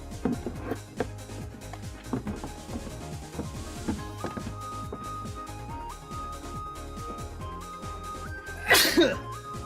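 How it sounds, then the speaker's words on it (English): Near the end, a single sharp, close sneeze bursts out over steady background music while someone packs up dusty shelves. "And now here comes the sneezing."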